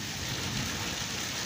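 Steady rain falls in Chattroh, Dadyal, Azad Kashmir, a continuous broadband hiss that holds evenly throughout, close and moderately loud with no voices over it.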